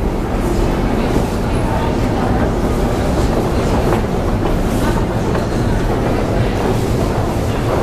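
A Moscow metro train rumbles through a station, with a loud, steady roar of wheels and rail noise, close by and continuous.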